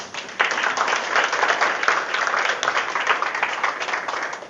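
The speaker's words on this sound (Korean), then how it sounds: "하나님께 영광의 박수를." A church congregation claps together during a sermon, a loud, dense and even applause that begins abruptly and holds steady for several seconds without talk.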